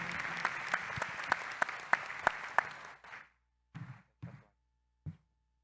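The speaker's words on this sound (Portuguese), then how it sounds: "Aplausos de todos, por gentileza." Applause at a Brazilian bar association (OAB) lawyers' oath ceremony: a brief burst of crowd clapping with a few distinct loud claps, ending abruptly around three seconds, followed by scattered isolated claps amid silence.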